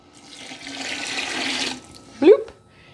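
Water splashes and pours into a pot of mushroom barley soup for about two seconds, ending in a single short bloop; a voice then imitates the bloop sound.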